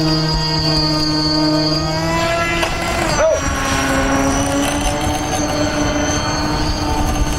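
Engines of a model B-17 airplane run on its maiden flight, giving a loud, steady multi-engine drone with a shifting pitch and a brief dip partway through, while people talk nearby.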